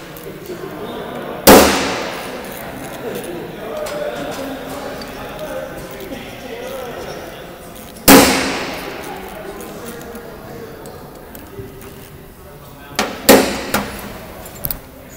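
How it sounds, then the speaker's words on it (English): Loud sharp metallic bangs from an air brake compressor as its four bolts are worked loose, with three heavy impacts and a cluster of smaller knocks near the end. "What I'm going to do is going to go ahead and remove these four bolts here"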